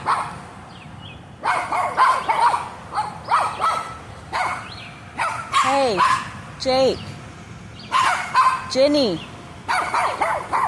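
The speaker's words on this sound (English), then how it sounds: "I need to figure out how I can do readings without the girls going crazy, barking" Two pet dogs bark and yip excitedly at someone slowly approaching, in repeated bursts with whining, bark sequences rising and falling across the scene while a person speaks briefly between them.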